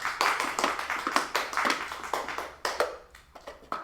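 A small audience at a children's magic show claps for a trick in a brief, close patter of hand claps that thins out toward the end, with no talking over it.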